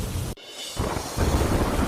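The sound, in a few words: torrential rain and thunder in Kotdwar Bhabhar, Uttarakhand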